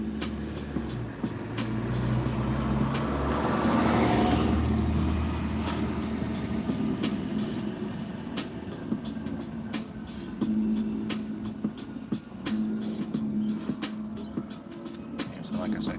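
Buses and loud cars roll past outside in a steady, continuous traffic wash with engine rumble swelling and fading, while someone talks softly over it at times.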